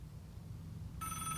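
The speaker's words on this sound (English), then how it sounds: "pick up the phone, because it's ringing" A telephone in the multiplayer shooter Vigor starts ringing partway through, a bright electronic trill rising clearly over a low ambient rumble, with no talk.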